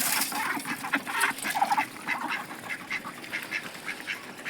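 Muscovy ducks quack in a busy cluster, with overlapping nasal calls and hissy bursts close by against an outdoor background.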